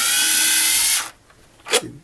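A power driver whirs steadily for about a second while backing screws out of a DRB III scan tool housing, then stops, followed by a brief second buzz of the driver.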